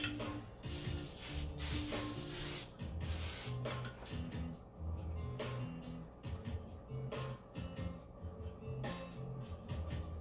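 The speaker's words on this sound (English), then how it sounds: "And then spray it." Aerosol spray misted onto a styled wig ponytail, delivered as a series of short and longer hissing bursts with brief pauses between, close and fairly loud.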